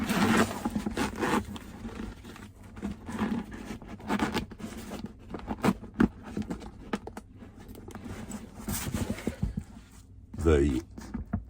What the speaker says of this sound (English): I zip it up